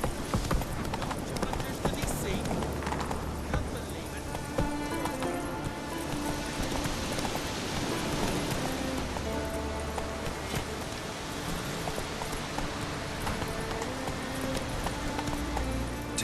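Hooves clip-clop in a steady galloping rhythm from a horse in The Witcher 3, running throughout over layered game music and ambience, with talk over parts of it.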